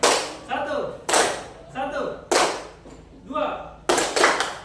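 A group of pupils in a classroom clap game claps in loud, crisp bursts, four sharp group claps spaced about a second apart, with a teacher's voice calling between them.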